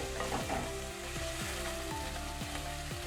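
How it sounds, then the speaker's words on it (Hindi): Chicken stirred and fried in a pan, a steady sizzle broken by regular scraping strokes of the spoon, close and alone. "चिकन को इसके अंदर 2 मिनट तक मिक्स करना है।"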